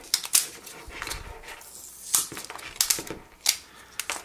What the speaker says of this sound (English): let's go ahead and peel this off